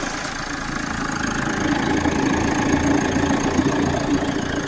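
A car engine with a cut radiator hose leaking coolant runs at a steady idle, a continuous low rumble at close range with no talk over it.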